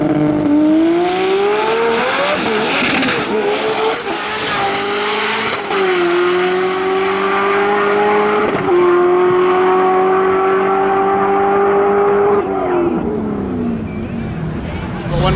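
A 1500-horsepower all-wheel-drive four-cylinder Honda Integra with a stick shift makes a drag racing pass at TX2K. The engine roars loud and steady at full throttle, with brief dips at each gear shift through the run.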